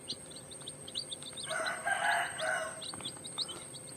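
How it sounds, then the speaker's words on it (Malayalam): Native chicken chicks peep repeatedly in thin, high chirps while a louder, harsher call from a grown fowl rises in the middle. "നാടൻ കോഴിക്കുഞ്ഞുങ്ങളാണ്."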